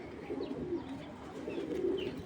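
Low, soft cooing from racing pigeons murmurs steadily throughout, fairly close, with faint chirps above and no voices.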